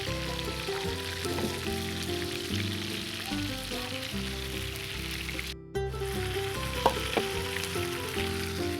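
Fish frying in a pan on a medium-high flame, giving a steady, dense crackling sizzle throughout, broken by a brief dropout and a few louder pops near the end.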